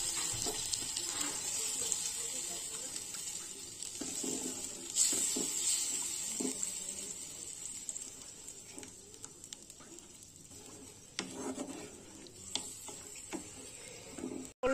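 Water pours from a tap into a pan of rui fish curry with potatoes and spices, a steady faint running hiss lasting throughout with a few small knocks and splashes.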